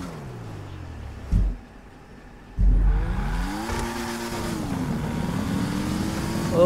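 A car in GTA V Online's parkour race revs hard after two abrupt thuds, its engine rising and falling in pitch at close range before holding a steady drone.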